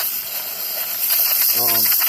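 Steam cleaner hissing steadily while cleaning a chainsaw, a loud continuous broadband hiss up close, with someone talking briefly over it toward the end.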